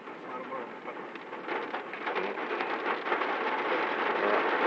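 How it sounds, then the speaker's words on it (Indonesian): Heavy rain pours steadily in Malang, Indonesia, a dense broadband hiss that grows slightly louder toward the end, with no one speaking. "Hujan lebat sekali tuh."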